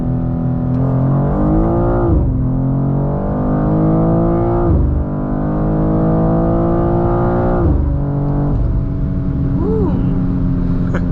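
A 2024 BMW M2 pulls hard at full throttle in second gear with its engine note climbing steadily, close and loud, with brief dips at the gearshifts.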